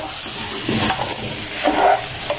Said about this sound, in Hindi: तो हम इसको अच्छे तरीके से भून लेते हैं